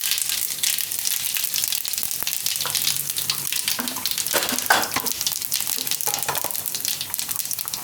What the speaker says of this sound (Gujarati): તો તેલ આપણું ગરમ થઈ ગયું છે. એમાં નાખશું પહેલાં આપણે રાઈ